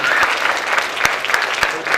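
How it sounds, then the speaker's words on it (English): Quick burst of audience applause at a university debate roundtable on cybercrime, dense clapping with a few sharper individual claps standing out, fairly loud and close. "Can we get a quick round of applause for the"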